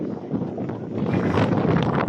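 Wind gusts across the microphone on an outdoor morning walk, a steady, fairly loud rushing roar that builds slightly over two seconds, with no talking.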